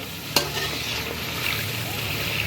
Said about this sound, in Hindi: चिकन और आलू हो गए फ्राई। इसके अंदर अब मैं डालती हूँ मिर्च मसाले।